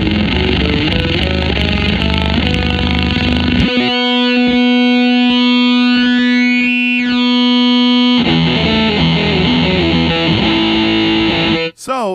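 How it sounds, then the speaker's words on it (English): An electric guitar runs through a Subdecay Harmonic Antagonizer pedal with its sensitivity turned down, giving a loud, sustained distorted tone that plays a riff, drops to a held buzzing note, then returns to the riff. "with the sensitivity down, it becomes a sweet, sweet distortion pedal."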